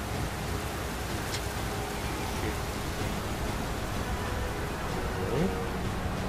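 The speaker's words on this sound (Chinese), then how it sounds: "下大雨啦。" Heavy rain in the video game Dynasty Warriors 9, a dense, even downpour hiss that holds steady and loud throughout, with a faint tone briefly showing near the end.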